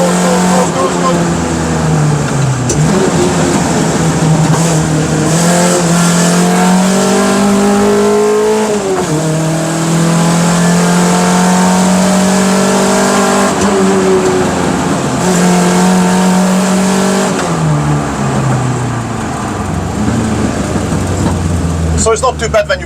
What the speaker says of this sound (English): First gear goes quite nice, second gear still revving, third gear